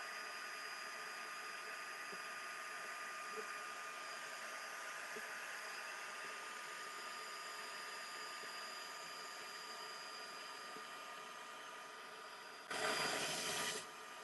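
A blow dryer dries a mixed media art piece, a steady, close whooshing hiss running continuously, with a brief louder burst near the end.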